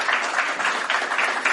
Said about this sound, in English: Round of applause for Fair Creek Films.